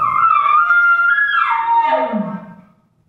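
Elk call imitating a bull elk's tones: a single loud, close, whistling bugle that slides from high down to low, then fades out.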